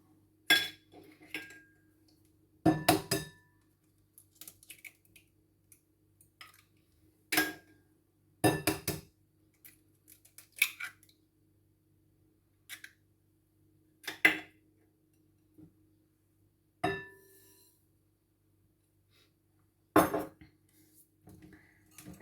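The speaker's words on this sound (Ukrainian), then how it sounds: "Для початку ми змішуємо яйця разом з цукром." Whisk or utensil clinks repeatedly against a bowl while eggs are mixed with sugar for a red velvet cake batter, sharp irregular taps and scrapes spaced across the stretch, close and fairly quiet, no talking.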